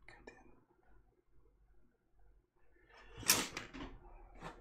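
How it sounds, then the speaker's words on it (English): Someone blows their nose close to a microphone during a livestream painting session: faint rustling first, then a short, noisy, forceful blast followed by a smaller puff. "I gotta blow my nose."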